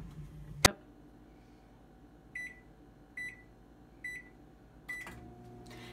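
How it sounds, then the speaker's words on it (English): A click, then several short electronic beeps from a keypad, after which a microwave oven starts up with a low steady hum, melting chocolate. "place your chocolate in the microwave."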